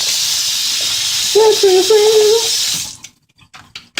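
A kitchen tap runs hard into a sink as a vegetable is rinsed for chicken noodle soup, a loud steady hiss of water that stops abruptly, followed by a few small clatters; a person briefly hums or speaks over the flow.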